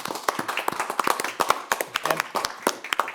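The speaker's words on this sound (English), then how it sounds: "So I'll just ask for a little bit of a round of applause for everybody" Light, uneven clapping from a small audience at a city council meeting, a loose patter of individual hand claps close by with a faint murmur of voices underneath.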